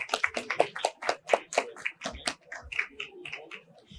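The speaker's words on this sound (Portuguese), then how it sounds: "Uma salva de palmas, por favor." Applause from a conference audience welcoming a speaker at a transport insurance session, a dense run of close hand claps for about four seconds that gradually thins and fades toward the end.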